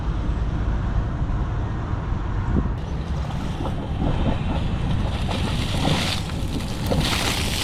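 An air compressor blows water out of a traffic light conduit with a loud, steady rushing hiss of air and spraying water, with bursts of splashing growing stronger toward the end.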